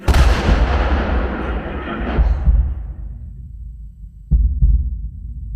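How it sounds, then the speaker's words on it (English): A loud, deep simulated mortar boom from propane and oxygen ignited by a spark plug, with a long rumbling decay, followed a few seconds later by two sharp blasts close together. "simulated mortar explosions that occur when a spark plug ignites a combination of propane and oxygen"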